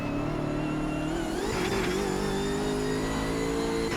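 A BMW M6 GT3 race car engine in the AMS2 racing game revs and pulls hard, its mid-pitched drone rising and shifting in pitch as the car accelerates, steady and close with no talk.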